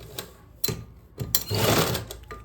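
A sewing machine stitches the sleeve of a suit in short bursts, pausing as the fabric is lifted around the curve, then running in a longer steady whirring run, close and fairly quiet.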